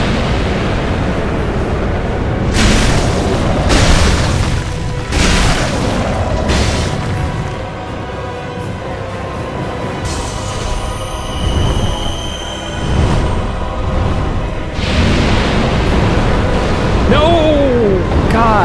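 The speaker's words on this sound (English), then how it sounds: "Please shoot regular fire at me." Booming fire-attack explosions from Dark Souls II burst repeatedly, loud and heavy, with rumbling between blasts, while a voice talks over parts of the fight.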